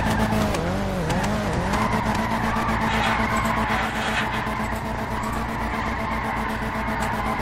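Car drifting at a GTA 5 roleplay drift event, with a loud continuous engine drone and steady, sustained tire squeal sliding in pitch, close and unbroken throughout.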